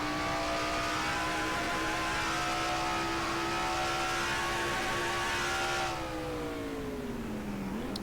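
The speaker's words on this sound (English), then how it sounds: "On board with Kyle Matthews in car 42" A stock car engine in an on-board racing video game view, whining at a steady high pitch through a long pull, then dropping in pitch as it lets off near the end, loud and with no talk.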